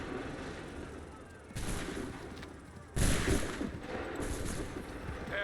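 In the Assassin's Creed 3 video game, heavy artillery fire booms in a few loud, broad blasts, with rolling rumble and crackle in between, set against constant battlefield noise.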